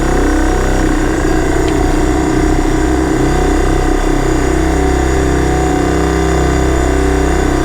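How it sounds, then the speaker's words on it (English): The air suspension compressor in a bagged, boosted Acura Integra runs in a loud continuous mechanical drone that holds steady from start to end, close up and with no talking. "the compressor's kicked on"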